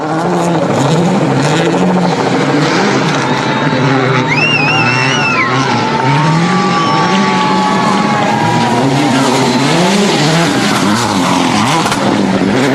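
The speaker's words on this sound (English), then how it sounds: "The puddles and mud of this slippery final stage are safely negotiated, and Atkinson holds on for back-to-back 2nd" A Subaru WRC rally car on a puddled, muddy final stage of Rally Argentina 2008 gives a steady, loud engine drone for the whole stretch, with gear changes rising and falling and faint voices in the background.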